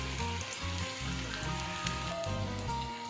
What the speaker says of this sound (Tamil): அதை இப்போது எண்ணெயில் போட்டு பொரிச்சு எடுக்கலாம்